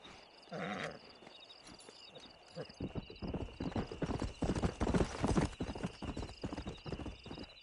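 A stallion's hooves clip-clop in a steady trotting rhythm in the Red Dead Redemption video game, close and fairly loud, alongside a brief whinny early on and a high tonal game hum.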